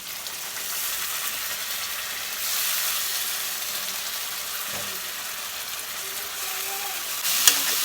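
Tomato and cashew paste sizzling in a pan with spices while a Bengali chitol fish kalia cooks, a steady close hiss of frying that holds through the clip, with a brief sharp knock near the end.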